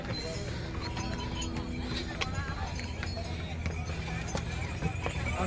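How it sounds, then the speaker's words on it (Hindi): Horses carry riders along the Kedarnath pilgrimage trail in the rain, their hooves clip-clopping irregularly on the path amid a busy outdoor din, with voices nearby. "जवान जवान जवान पट्टे आदमी घोड़िया पे बैठे चले जा रहे हैं"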